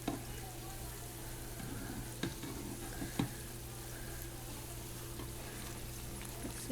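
Sugar puffs frying in hot grease, a steady low sizzle and bubbling throughout with a few faint clicks and taps, quiet and even with no talking.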